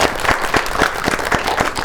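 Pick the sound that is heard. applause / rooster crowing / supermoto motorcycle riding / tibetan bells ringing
applause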